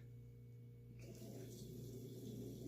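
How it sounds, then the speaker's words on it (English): A soft, steady hiss with faint bubbling starts about a second in and continues evenly, as cold butane boils off inside a fuel can. "That's the butane boiling off in the can"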